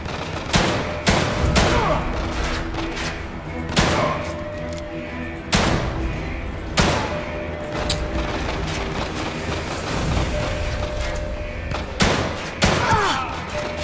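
Repeated gunfire in The Evil Within 2 as the player shoots at enemies: sharp loud shots in irregular bursts every second or two, over a murky game ambience with low rumble, and a voice speaking briefly.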